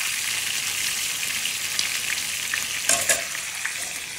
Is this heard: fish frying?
yes